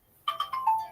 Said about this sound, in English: What was that noise? Oh, it was just my phone call.